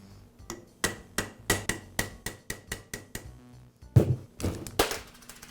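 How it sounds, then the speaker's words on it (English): A metal punch is hammered to tap a hammer-drill armature out of a bearing separator held in a vise: about a dozen sharp, ringing metallic strikes at a steady pace, close and loud, ending with a heavier cluster of blows. "I'll use a punch to tap the armature away from the bearing."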